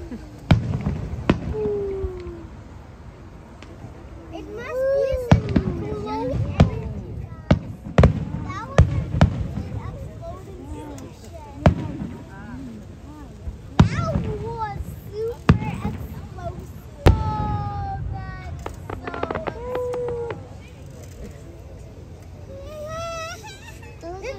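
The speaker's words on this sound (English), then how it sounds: "It's like colored Fireworks in Mackinaw City." Fireworks in Mackinaw City crack and pop repeatedly at a distance, with whistling rockets rising between bursts, while a crowd and children talk and shout nearby.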